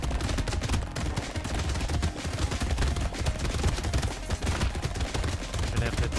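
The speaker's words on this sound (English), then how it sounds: "It's just fun to hear all the bullets going." Rapid machine-gun fire from the video game Brotato, a dense nonstop rattle of bullet shots and impacts layered with game effects, loud and continuous throughout.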